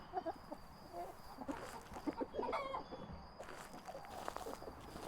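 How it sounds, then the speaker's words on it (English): Chickens cluck in a coop inside the ghost-hunting game Phasmophobia, a scatter of soft clucks and short calls over a steady low background hum. "they can't give me chicken sounds with a peekable door and not have chickens actually in there"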